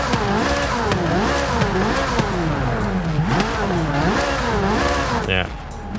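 Corvette C8 Z06 exhaust in Forza Horizon 5, revving continuously with rising and falling engine pitch, loud and close, easing off near the end.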